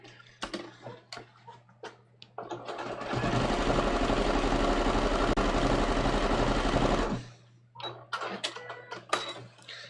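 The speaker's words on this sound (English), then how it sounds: "I'll just stitch along the hem of this pants muslin just so you can see what it looks like." A sewing machine runs a meandering stitch along the hem of a trouser muslin, whirring fast and rhythmically for about four seconds between quiet handling clicks.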